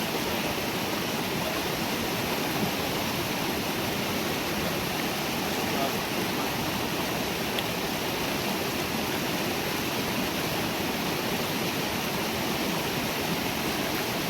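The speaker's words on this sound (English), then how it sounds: "Water propelling the mill." Water rushing steadily past an outdoor watermill, a loud, continuous broadband roar like a stream or small waterfall, close by and unbroken throughout, with no talking.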